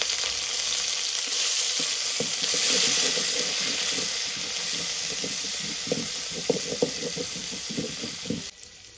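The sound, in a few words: shrimp frying with onions in a pot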